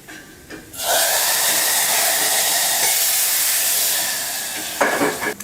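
Hot oil tempering of garlic and curry leaves poured onto cooked greens, an abrupt loud hissing sizzle that holds steady for several seconds and then eases off, followed by a few close clatters.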